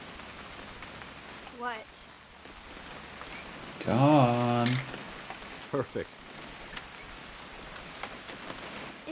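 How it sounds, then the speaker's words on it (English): Steady rain falling in the video game What Remains of Edith Finch, a soft continuous patter beneath the scene as voices talk over it at moments. "It's going to rain the whole weekend, isn't it?"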